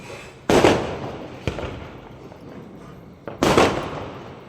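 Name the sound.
Diwali firecrackers and fireworks going off outside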